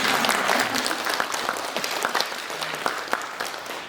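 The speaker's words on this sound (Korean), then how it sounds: "박수를 좀 쳐주세요." Audience applause at a film Q&A screening of a Korean documentary, a dense, steady wash of many hands clapping close by for about four seconds, thinning slightly toward the end.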